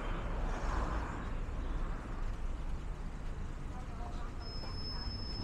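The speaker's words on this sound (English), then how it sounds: "The traffic." Steady road traffic in Yardley Wood, Birmingham, a continuous low rumble of passing vehicles at moderate distance, filling the whole stretch without clear breaks.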